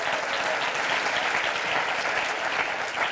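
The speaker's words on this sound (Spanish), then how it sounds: "Dale un aplauso fuerte al Señor." A church congregation applauds loudly and steadily, dense clapping from many hands filling the room without pause.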